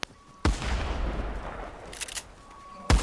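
Gunfire in Fortnite: sharp shots ring out at the start and end, with a loud blast near half a second trailing into a long rumbling decay and a few scattered cracks in between.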